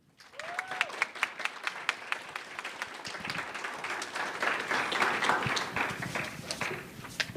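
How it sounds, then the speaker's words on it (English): An audience at an academic lecture applauds for the speaker, with a few distinct claps at first that build into steady, moderately distant applause. "Please give a round of applause for Dr. Lynn"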